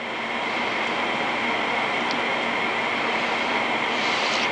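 Compressed air blasting through a small carburetor jet held in hemostats, a loud, steady hiss lasting the whole moment with no pauses.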